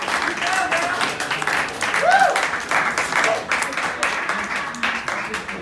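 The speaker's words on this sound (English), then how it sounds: "give them a round of applause" Audience applause for twist contest contestants at a comedy fundraiser at The Savoy, a moderate round of clapping that rises and fades under an MC's ongoing speech.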